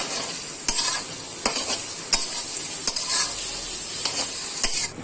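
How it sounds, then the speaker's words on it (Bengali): Fried rice with carrots is stir-fried in a pan: a steady sizzle runs throughout, punctuated by regular spatula scrapes and clinks about every second, close and clear with no voices. "দিয়ে ভালো করে আবার ভেজে নেব।"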